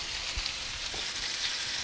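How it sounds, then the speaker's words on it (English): Chicken browning in a frying pan for an Italian dish gives a steady, close sizzle of hot oil with soft crackles and a faint clatter or two, alone with no talking. "I'm going to let that cook on each side for a couple of minutes until I get sort of golden brown"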